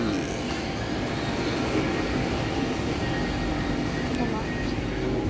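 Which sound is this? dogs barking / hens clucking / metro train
metro train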